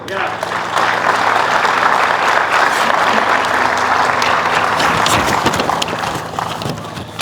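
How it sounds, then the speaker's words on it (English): Loud, dense crowd applause at an outdoor ribbon-cutting ceremony for an aquatic and recreation center, sustained clapping with some voices mixed in, swelling slightly before tapering at the end. "they all, again, deserve another big round of applause"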